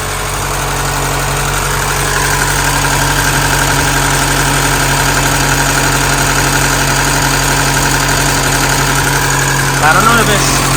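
A car engine idles after a head gasket job while it warms up, a loud, even drone with a constant hum, steady throughout with a brief voice near the end.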